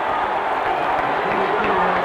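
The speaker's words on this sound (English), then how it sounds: "Listen to the crowd." A college football stadium crowd at LSU versus Alabama in 1990 roars steadily and loudly, a dense wash of cheering voices late in the game that holds without a break.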